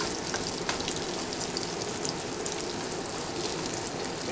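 Potatoes (taters) fry steadily in a pan for a breakfast burrito, giving a dense, even sizzle and crackle that stays close and constant with no talk over it.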